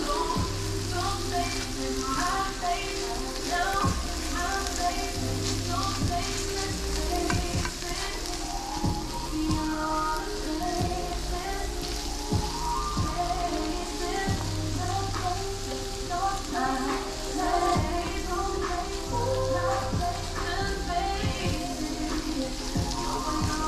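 Vegan spaghetti sauce sizzles and crackles in a pan, a dense, continuous frying hiss with small popping bursts and occasional stirring scrapes, close and steady throughout.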